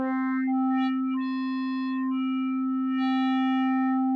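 Steady synth tone from a Digitone II FM synthesizer playing its carrier wave shape, a sustained pitched note with shifting upper harmonics swelling in and out, clean and alone with no talking.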